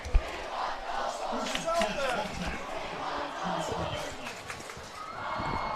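A crowd at a varsity high school football game shouts and cheers, a rowdy mass of voices rising and falling, with a nearby voice talking over it.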